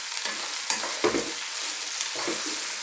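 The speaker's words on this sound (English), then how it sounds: "I just want to cook this, turning it all the time" Thick chunks of red cabbage fry in a pan over lively heat, a constant sizzle broken by several quick scraping stirs and tosses, close and without talk.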